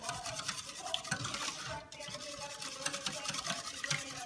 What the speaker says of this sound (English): and just keep whisking